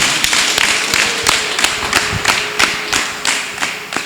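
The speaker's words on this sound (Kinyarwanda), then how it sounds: "Kumeye Yesu amashyi menshi cyane." Steady rhythmic clapping from a church congregation applauding in praise of Jesus, loud and close, a sustained run of even claps.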